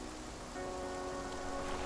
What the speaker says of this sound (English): This rain just does not stop for anything.